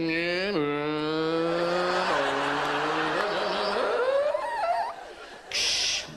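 A comedian vocally imitates car noises: a revving engine pitch that holds and steps up, then a rising screech like a skid, followed by a short burst of noise, all by voice and fairly close.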